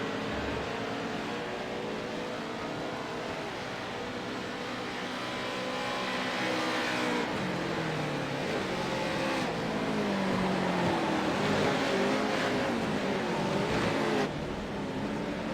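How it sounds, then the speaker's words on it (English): Race cars of a West Coast Pro2 series race lap the infield road course at Kansas Speedway, engines droning steadily at a distance and rising in pitch as cars pass nearer, with no voices. "There's Hamilton coming around turn 2, coming into turn 3"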